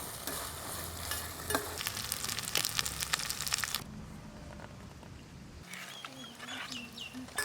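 Coconut masala with ginger frying in a pan for gongura chicken, crackling sizzle and stirring scrapes that stop partway, then quieter frying with faint background chirps.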